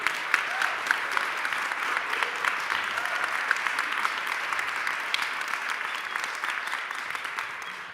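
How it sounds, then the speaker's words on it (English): A large audience at a Berlinale Talents 2025 panel talk applauds steadily, dense clapping holding at a constant level throughout. "So give me a big applause for Karim as well"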